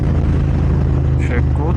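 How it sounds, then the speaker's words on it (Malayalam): Royal Enfield Interceptor 650 twin with a Red Rooster full exhaust system, a loud steady thrumming drone while riding on the road, with a short higher whine briefly over the engine near the end. "ഈ എക്സോസ്റ്റ് അത്യാവശ്യം ലൗഡാണ്."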